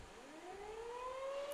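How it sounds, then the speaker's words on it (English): An emergency warning siren sounds its weekly Saturday noon test near a baseball game, a faint, distant wail rising slowly in pitch over a low outdoor background. "there comes the emergency warning siren that is always going off at 12 noon on Saturday"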